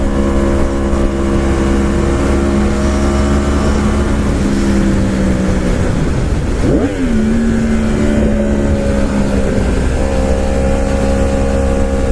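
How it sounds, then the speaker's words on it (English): A truck passes a motorcyclist on the road, its engine drone rising and falling over constant loud wind and motorcycle engine noise heard from the rider's helmet. "Got a truck going my way."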